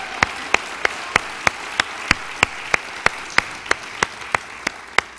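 Sharp, evenly spaced claps, about fifteen in a steady rhythm, ring out near and clear over a faint hiss for a family with ten children at a church service, with no voices.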